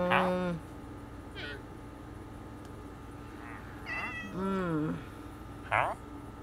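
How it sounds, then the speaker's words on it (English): Minecraft cat meowing in gameplay, several distinct meows spaced apart, fairly faint against a quiet game background. "Another cat."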